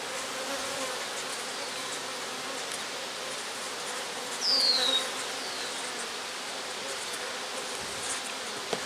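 Honeybees swarm around an open backyard hive in a steady, dense buzzing drone that lasts throughout, with one bee passing louder and closer midway.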